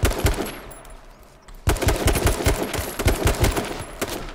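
Rapid gunfire in the battle-royale shooter H1Z1, with repeated sharp shots in fast bursts, a brief quieter gap, then a heavier resumed volley.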